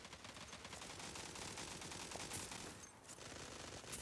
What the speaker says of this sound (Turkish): A'da bayağı silah sesi var.